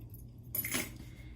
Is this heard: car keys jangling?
yes